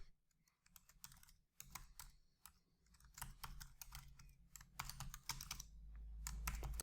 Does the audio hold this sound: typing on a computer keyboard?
yes